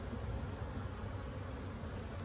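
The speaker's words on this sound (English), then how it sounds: "We got a lot of bees in here" Dense, steady buzzing from a packed beehive full of bees, a continuous low drone with no breaks and no talk, heard close up throughout.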